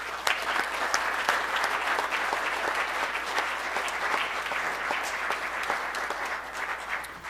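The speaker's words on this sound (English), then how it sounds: "let's give him one more applause" Audience members at a St. George city council meeting give sustained applause, a steady, fairly close patter of many hands that tapers slightly at the end.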